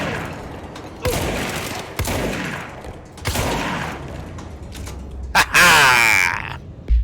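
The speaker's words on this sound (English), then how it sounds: "Certainly works like a shotgun." Shotgun gunfire in the video game Control, several heavy spaced blasts about a second apart, each with a rumbling tail, followed by a loud crackling burst near the end.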